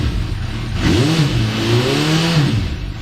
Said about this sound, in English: Let's just give it a bit of a rev.